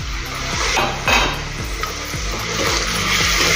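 Tomato chunks tumble into onions frying in a pan for a masoor and urad dal dish, raising a loud, steady sizzle with scraping stirs and a few sharp clinks of a spoon against metal.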